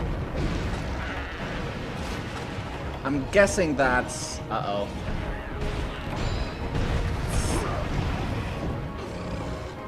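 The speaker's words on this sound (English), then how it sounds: "Be aware that the explosions do have quite a bit of splash on them." Explosions from Brachydios in the video game Monster Hunter 3 Ultimate, booming blasts and crashing bursts over a busy game soundscape while someone talks over the action.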